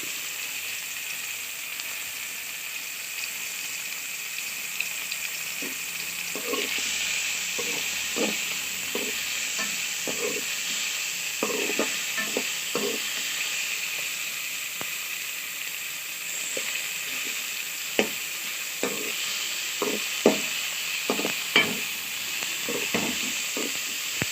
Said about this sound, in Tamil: தக்காளி நல்லா வதங்கணும்